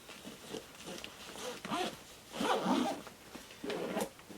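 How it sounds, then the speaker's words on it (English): A backpack zipper, a Patagonia Black Hole Pack 32L, is pulled in several short, raspy strokes with small pauses between, close and fairly quiet, along with some soft handling noises. "putting a laptop in here and just zipping this up is super convenient"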